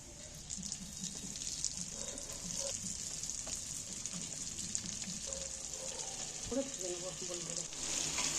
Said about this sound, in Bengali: বাকি যেগুলো আছে আমি এই তেলের মধ্যে তুলে দিচ্ছি একটা একটা করে দেখো